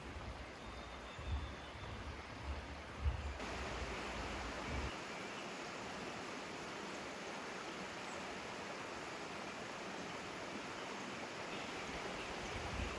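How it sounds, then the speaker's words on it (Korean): A cool valley stream flows at the entrance of a forest trail, a steady, soft broadband rush of water with some low rumble early on, distant and even throughout. "초입부터 시원한 계곡물 소리가 들립니다"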